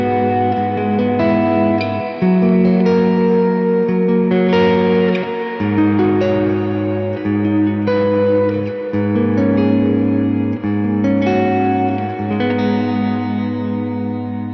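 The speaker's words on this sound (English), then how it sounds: "Or you can crank it up and get some more spacey effects with that pedal." An electric guitar plays sustained chords through an amp simulator with a pedal, drenched in shimmering reverb and chorus for a spacey, washed-out tone.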